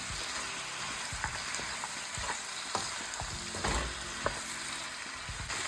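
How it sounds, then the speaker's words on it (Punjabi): Red chilli stirred and frying in a pan of paneer lababdar masala: a steady sizzle with scraping spoon strokes recurring throughout, close and fairly loud, with no voices. "ਥੋੜੀ ਜਿਹੀ ਲਾਲ ਮਿਰਚ ਇਹਨਾਂ ਨੂੰ ਆਪਾਂ ਹਿਲਾ ਲੈਣਾ ਚੰਗੀ ਤਰੀਕੇ ਮਿਕਸ ਕਰ ਲੈਣਾ"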